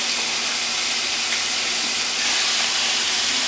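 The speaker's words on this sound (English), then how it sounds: "we're going to render this bacon down. You can hear the sizzle." Steady, dense sizzling hiss of bacon rendering in a pan, close and continuous with no speech.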